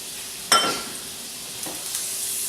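A pat of butter and a tablespoon of olive oil sizzle in a saucepan as a steady close hiss, with a sharp clink or tap near the start and a couple of faint knocks later, no talking.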